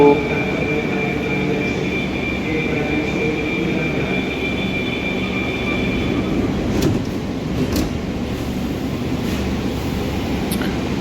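A Kolkata Metro train departs, rumbling steadily with a low, continuous roar and a high electrical whine that fades midway, followed by a few faint clicks.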